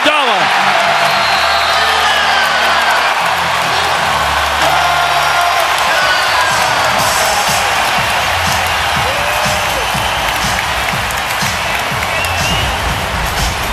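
A basketball arena crowd cheers and applauds loudly after a defensive stop in a Warriors–Cavaliers game, a sustained roar of claps and whoops filling the space while a commentator talks over it.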